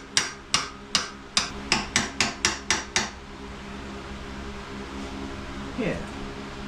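A hammer taps a mudguard bracket into place with about ten sharp, evenly spaced metallic strikes, each ringing briefly. The blows stop after three seconds and leave a steady low background hum.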